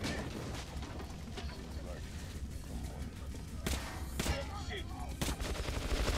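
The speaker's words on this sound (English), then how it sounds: "Am I getting fire damage or am I getting shot at? I'm getting shot at." Gunfire in the video game Metro Last Light, sustained rattling bursts and sharp shots over a dense, noisy game soundscape, with louder cracks toward the end; a player is also heard talking.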